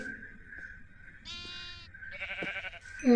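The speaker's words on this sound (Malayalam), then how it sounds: "ഒരു ആട്ടിൻകുട്ടി വന്ന്, അപ്പോൾ ആട്ടിൻകുട്ടീനെയും കൊണ്ട് നമുക്ക് കൂട്ടിനാവാം" Sheep and lambs bleat in the video game Minecraft, with two short wavering bleats in quick succession over a quiet background hum, fairly close and moderate in level.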